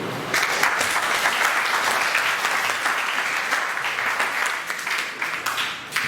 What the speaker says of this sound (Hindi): चलो बेटा तालियां बजती रहनी चाहिए